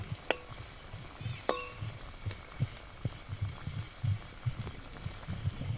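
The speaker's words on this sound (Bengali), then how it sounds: "হলুদটা দিয়ে আমি একটু ভালো করে ঝোলের সাথে মিশিয়ে নিই" A spoon stirs turmeric into simmering rui fish curry gravy, giving soft rhythmic scrapes and sloshes over a steady low sizzle, with a few sharp clinks of utensil against the pot.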